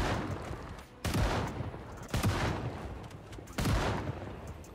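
JS2000 shotgun fired in the zombie survival game Project Zomboid, three loud booming shots roughly a second apart, each with a short reverberant tail, with no talking.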